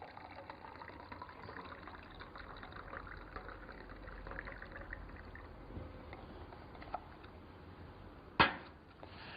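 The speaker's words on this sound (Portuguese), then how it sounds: "Colocamos então a água quente em um dos copos." Hot water from a thermos pours into a cup during a chemistry demonstration, a faint, steady liquid wash lasting several seconds, ending with a brief louder splash or clink near the end.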